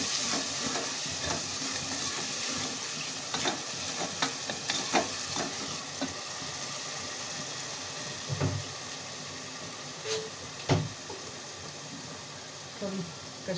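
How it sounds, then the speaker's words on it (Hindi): Bottle gourd and potato curry gets stirred in a hot pan, giving a long steady sizzle with irregular scraping strokes and a few louder knocks of the spoon against the pan. "मिक्स करेंगे अच्छी तरह।"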